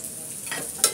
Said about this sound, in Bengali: তেলটা গরম হয়ে গেলে এখানে আমি পেঁয়াজ কুচি দিয়ে দিলাম আর দিয়ে দিলাম রসুন কুচি।